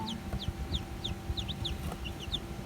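Newly hatched native cobra and Rhode Island cross chicks peep inside a DIY incubator: thin, high chirps repeat in quick bursts over a low, steady hum.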